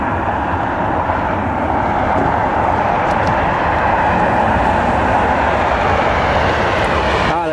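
United Boeing 737-800 airliner in Evo Blue livery flying past, a loud continuous roaring jet engine wash that holds steady throughout the pass.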